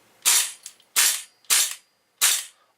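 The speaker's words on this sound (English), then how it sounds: "This is the recoil, by the way. It feels so nice with the steel buffer." Tokyo Marui M4 gas blowback airsoft rifle with a steel buffer, cycling in four sharp, loud close-up cracks with short hissing tails, spaced unevenly apart, with no voices.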